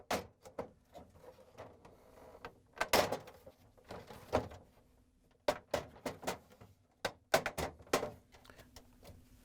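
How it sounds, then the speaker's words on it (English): Samsung refrigerator door being fitted and snapped onto the crisper cover, a series of sharp plastic clicks and knocks scattered irregularly with brief pauses, close and moderately quiet. "we can lower it down as we go across, snap the door onto the cover"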